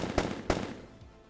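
Two sharp gunshots fired at targets in VRChat, about a third of a second apart, followed by a short fading tail, no speech.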